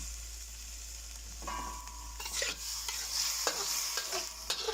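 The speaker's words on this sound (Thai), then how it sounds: "ใช้กะทิเติมไปค่ะ แล้วก็ค่อยๆผัดไปนะคะ" Curry paste stir-fried with coconut milk for a chicken and winter melon curry, a faint sizzle under a steady low hum, with stirring scrapes growing more frequent toward the end.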